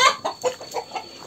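Chickens and chicks clucking as they are fed grain, a series of short, close, moderately loud calls in an uneven rhythm, with no talk.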